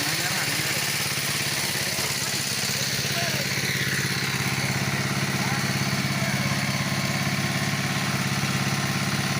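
Engine of a motorized fishing boat running, a loud, steady droning hum that continues without pause throughout.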